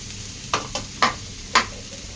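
Onions and green chillies stir-fried in a hot pan, with four distinct scraping strokes of a spatula over a low steady sizzle, close and clear with no talking.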